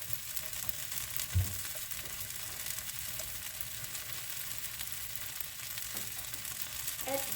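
Food fries in a pan with a steady close sizzle and crackle, a single knock of the utensil and faint scrapes breaking in at times, with no talk over it.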